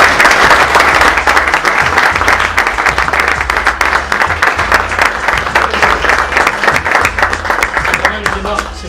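An audience applauding at an educational visit to a Label Rouge capon farm in Occitanie, loud sustained clapping throughout with voices mixed in.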